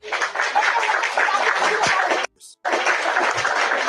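Crowd applause used as a sound effect, dense steady clapping from many hands that cuts out abruptly for a split second and then resumes at the same strength.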